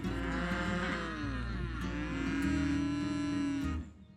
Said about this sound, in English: Lots and lots of cows. Everywhere you look, you'll see cows.